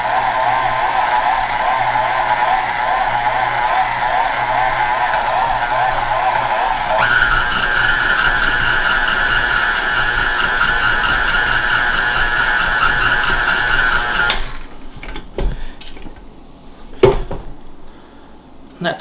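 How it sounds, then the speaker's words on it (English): A small KitchenAid stand mixer kneads stiff, sticky vetebröd dough, its steady motor whine humming loud and close before rising in pitch partway through. It cuts off near the end, leaving a few sharp clanks and knocks. "this is about as much as this little KitchenAid that I have can do"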